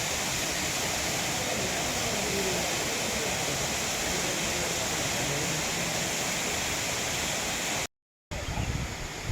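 Kutralam Main Falls waterfall cascading onto its rocky base, a steady dense roar of falling water heard close and continuous, briefly cut out near the end.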